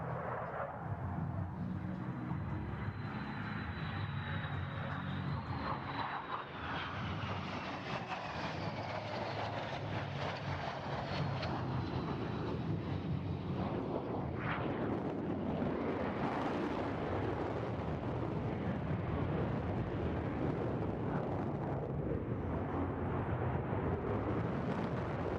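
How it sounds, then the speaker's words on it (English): A Blue Angels jet on maximum afterburner pulls into a steep climb and tuck-under roll at the NAS Oceana air show, a continuous distant roar rumbling steadily throughout with a faint descending whine in the first half. "select Max Afterburner, perform a steep climb and tuck under roll"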